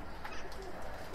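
A Miro-line Altuni pigeon coos softly and briefly, faint and low against a quiet room background.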